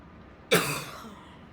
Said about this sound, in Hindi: सॉरी बच्चों मुझे ना खांसी हो रही है